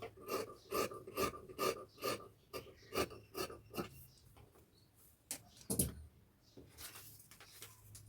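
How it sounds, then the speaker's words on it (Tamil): Scissors slice through blouse fabric along a marked cutting line, making a close series of rhythmic rasping snips that fade into quieter handling noises and a sharper clack near the end. "போட்டிருக்க கோட்டில் வந்து அந்த துணியை வந்து நம்ம கழிச்சிடலாம் கட் பண்ணி"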